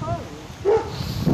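A puppy gives a couple of short, close yips and barks in an outdoor street setting, among a few other noises.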